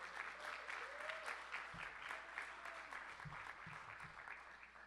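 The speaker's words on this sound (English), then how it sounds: "You can clap for her." Audience at a disability caucus meeting during a national political convention breaks into steady, moderately distant applause, with a few low thumps near the floor of the room.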